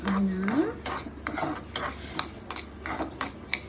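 Coriander seeds and cumin dry roasting in a pan for Andhra karipodi, with a spoon stirring and scraping through the seeds in short clattering bursts, close and moderately loud, under a faint background hum.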